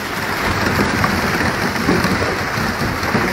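Patinga fish being released in bulk into a fishing pond, a dense, steady rush of water splashing loudly and close, with no talk over it.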